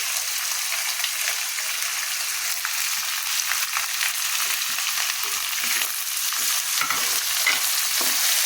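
Chopped onions frying in a pan for quick pepper rice, giving a steady, fairly quiet sizzle with soft stirring scrapes and small crackles throughout, no voices.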